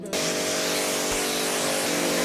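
Pressurized water spraying onto a car during a professional wash, a steady loud hiss that starts abruptly and runs unbroken to the end.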